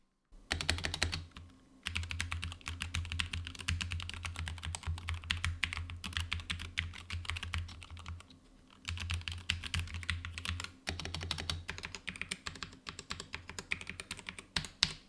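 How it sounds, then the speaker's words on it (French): Steady rapid typing on a compact gaming keyboard, crisp clacking keystrokes with two brief pauses, recorded up close beside a microphone with no talking. "Je vous laisse justement découvrir le son des touches à côté d'un micro."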